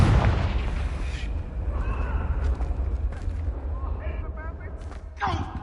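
A Confringo fire spell from the Hogwarts Legacy video game goes off with a loud, low booming blast at the start, then a rumbling tail with scattered crackles and a short burst near the end.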